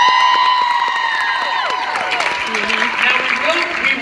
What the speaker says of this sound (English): So please make a great round of applause for them.